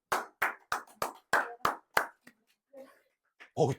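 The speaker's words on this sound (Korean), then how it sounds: "박수." A classroom of students claps in unison, seven crisp, evenly spaced claps, followed by a few scattered softer sounds and a brief voice at the end.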